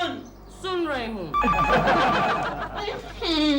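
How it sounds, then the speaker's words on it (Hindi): Telephone ringing indoors in a Hindi comedy sitcom, repeated warbling rings at the start and end with people talking between them. "फोन सुन रही हूँ।"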